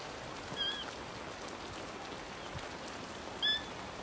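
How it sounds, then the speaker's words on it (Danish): Steady rain falls in a cold outdoor setting where a young rhinoceros calf stands with its mother, a soft continuous hiss throughout, with two brief high bird chirps rising above it. "Ungen her har aldrig før set regn."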